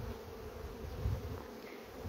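Honeybees buzz at hives in an apiary while a keeper works the colonies, a steady, low, close drone that holds at an even level for a couple of seconds with no talking.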